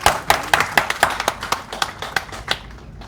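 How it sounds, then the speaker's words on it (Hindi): An audience at a celebration of Salman Khurshid's win claps in loose, separate claps rather than dense applause, each crack sharp and close, fading slightly toward the end. "मैं चाहती हूँ एक बार अपने लिए जोरदार ताली बजाएं"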